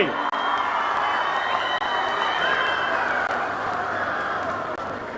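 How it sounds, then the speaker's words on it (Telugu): A crowd at a public gathering applauding, a dense continuous wash of clapping and murmur held at steady volume for several seconds without a break. "గట్టిగా చప్పట్లు కొట్టి హర్షాన్ని ఆమోదాన్ని తెలియజేయండి"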